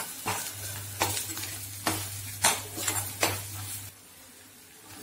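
Ginger tamarind thokku is stirred and sautéed in a pan, with about six sharp spatula scrapes over a soft sizzle before it falls nearly quiet, heard close with no voices.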